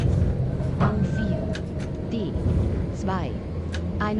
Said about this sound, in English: So I'm kind of used to the sound of the trams, and to me it sounds pretty good.